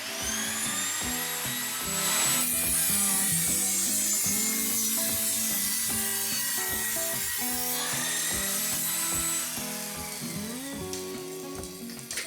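A table saw with a jig cuts wood at a 15-degree angle, its steady whining blade and the grinding of the cut running loud and continuous for about twelve seconds, easing off near the end.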